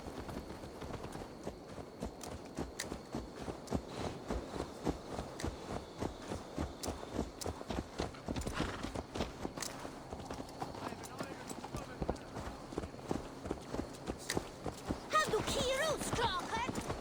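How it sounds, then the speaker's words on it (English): A horse in the video game Assassin's Creed Valhalla clip-clops along, a steady, quick run of hoofbeats throughout, moderately close, with characters talking over the hooves. "Let's return the horse."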